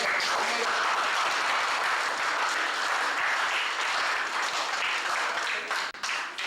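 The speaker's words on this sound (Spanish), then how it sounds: "Fuertes aplausos." Loud, sustained applause fills a public legal forum hall of a teachers' union event, a dense steady wash of clapping from a large audience that dips briefly near the end.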